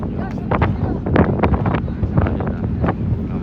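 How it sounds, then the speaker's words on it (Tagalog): Strong wind buffets the microphone outdoors on a tour outing, a loud continuous low rumble with gusty surges, while a person talks over it. "Lakas na ng hangin."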